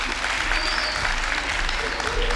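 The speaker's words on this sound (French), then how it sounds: "que je vous demande encore d'applaudir très fort, mesdames et messieurs" An audience at a Congolese music night in Cairo applauds loudly, dense continuous clapping with a faint voice underneath.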